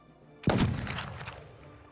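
A single gunshot in the turn-based role-playing game Pillars of Eternity, a sudden booming crack that decays into a short rumbling tail over quiet background.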